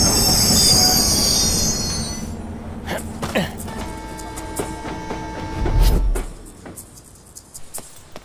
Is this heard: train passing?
yes